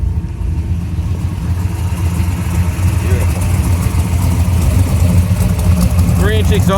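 Big-block 496 V8 in a 1968 Chevelle Malibu with 3-inch exhaust and Dynomax mufflers, a steady deep idle rumble running close and loud throughout, with people talking over it near the end.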